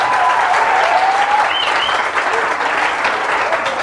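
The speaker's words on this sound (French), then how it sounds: "On l'applaudit, on l'applaudit, on l'applaudit." A church congregation at a Tabernacle du plein Evangile service claps together in steady, sustained applause that fills the whole stretch, loud and dense with no speech over it.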